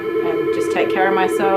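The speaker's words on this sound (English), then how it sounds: "That is my phone ringing again." A phone rings steadily with a sustained electronic ringing tone during a pet groomer's livestream, close and loud, while someone talks over it.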